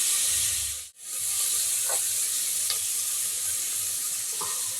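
Ingredients for chicken kurma sizzle steadily while sautéing in a pan, a continuous loud frying hiss broken by a brief pause and a few soft stirring scrapes, with no talk.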